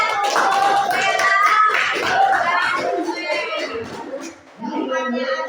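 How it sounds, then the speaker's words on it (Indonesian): Children clapping for a classmate in a classroom coding lesson, a busy patter of small hands mixed with children's voices chattering over it, loud and close, dipping briefly near the end before picking up again. "Tepuk tangan untuk Bella."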